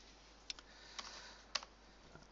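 Quiet computer keyboard typing while working in the Houdini terrain tool: a few sparse, crisp key clicks spaced about half a second apart, close and isolated against a faint background hum.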